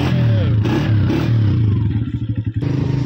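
A motorcycle starts up and revs close by, its engine firing in a rapid throbbing rhythm after some clatter, with brief voice underneath.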